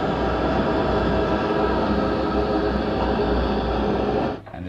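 A layered bat creature sound effect built from several processed source sounds for the game Alan Wake, a dense continuous rumbling rush that runs steadily for over four seconds, then cuts off abruptly near the end.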